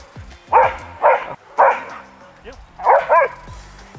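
A German Shepherd on a leash barks aggressively in a field, five loud, close barks in quick bursts, some doubled, with low background sounds between.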